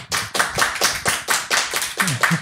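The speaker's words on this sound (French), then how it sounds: "je voudrais d'abord juste que vous applaudissiez ces deux messieurs-là" A small audience claps in unison for two guests at an exhibition opening, about ten loud, rhythmic claps close by, with no talk.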